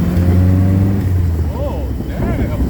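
The engine of a topless 1970 Datsun Roadster SPL311 revs hard under acceleration, then the loud engine tone fades into road and wind noise as voices talk over it.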